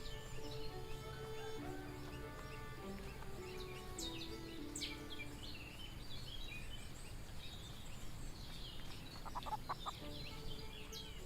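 Chickens clucking in the farming video game Everdream Valley, a soft run of clucks and chirps over a light melodic background with a few clicks, no talking.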